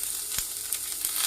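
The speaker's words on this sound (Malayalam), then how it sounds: "അവസാനം കുറച്ച് എണ്ണ ഒഴിച്ചിട്ട് നമ്മൾ കുറച്ച് സബോള വെറുതെ ഒന്ന് വഴറ്റിയെടുക്കാം." Onions sautéing in oil in a reseasoned, once-rusty pan make a soft, continuous sizzle with a few faint clicks from stirring, brief and quiet with no talk.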